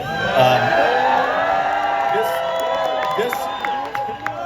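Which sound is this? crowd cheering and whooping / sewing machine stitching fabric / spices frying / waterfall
crowd cheering and whooping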